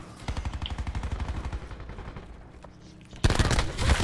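The Spitfire submachine gun firing in Black Ops 4: a fast, steady stream of close shots for about a second and a half, a quieter pause, then another loud burst starting near the end.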